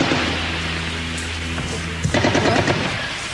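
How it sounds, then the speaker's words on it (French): Gunfire breaks out at the Netzarim enclave in Israel, a short sharp crackle of shots coming in partway through over a steady low hum, fairly distant rather than close. "des tirs."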